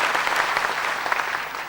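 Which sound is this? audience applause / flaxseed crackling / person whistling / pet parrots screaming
audience applause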